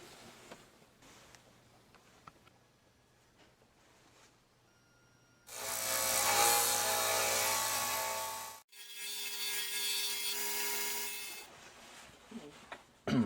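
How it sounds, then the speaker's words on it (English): A disc grinder bites into a 1095 steel knife blank in two loud, rasping bursts, the first about three seconds and the second slightly shorter after a brief pause, set between quiet workshop stretches. "So I'm going to take that to the disc grinder"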